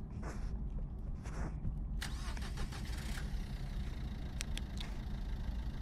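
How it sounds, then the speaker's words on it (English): A car engine in a Backrooms horror video game: a low, steady mechanical rumble runs throughout, with a starting-like burst of rattling noise partway in and a few faint clicks afterward. No talking. "So we have to wait for the car to drive."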